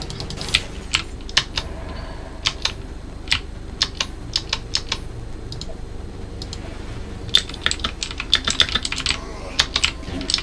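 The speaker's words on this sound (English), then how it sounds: "Isaac, how loud is my keyboard in that stream?" Rapid computer keyboard typing runs throughout in irregular bursts of sharp, close clicks, with keystrokes clustering more densely near the end and no speech, during a gaming stream attempting rogue runs.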